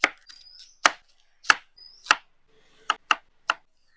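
A knife chopping peeled raw plantain on a board, seven crisp separate cuts at an uneven pace, close and clear with quiet pauses between them.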